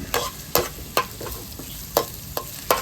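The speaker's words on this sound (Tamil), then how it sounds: "நல்லா கிண்டிக்கோங்க உங்களால முடிஞ்ச அளவு" Food stirred in a pan while cooking outdoors on a rooftop terrace, with sharp, regular scrapes and knocks of the spoon against the pan over a steady sizzle, close and fairly loud.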